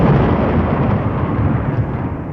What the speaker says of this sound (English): There was a flash of lightning and a crash of thunder.